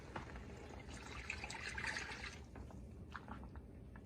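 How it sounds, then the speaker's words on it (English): A little water is poured into a pot of chili with fried dry spices, a soft, quiet trickling and sizzling splash lasting a few seconds before easing off. "And then put in a little water"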